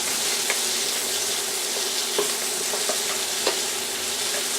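Steady sizzling of vegetables frying in a pan on an induction burner, with occasional light clinks and stirring taps, no voices.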